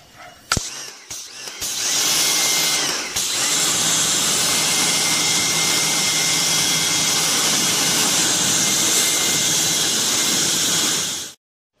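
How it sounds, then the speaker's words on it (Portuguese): A water jet sprays steadily against an air conditioner unit during cleaning, a loud continuous hiss that starts after a few brief bursts and runs unbroken to the end. "eu vou passar um jato d'água para tirar aquela sujeira ali todinha de excesso"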